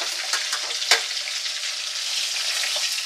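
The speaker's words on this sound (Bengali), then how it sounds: "আমি মাছগুলো ভেজে নিয়ে আসছি।" Pomfret fish frying in oil, a steady crackling sizzle close by with a few brief spatters and one sharper pop near the start, no talking.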